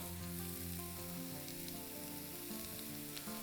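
Oil hits a hot pan and sizzles in a steady, close, continuous frying hiss with no talking.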